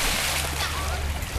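Children jump together into water with a full, close splash followed by sloshing and churning, and an adult voice talks over the splashing.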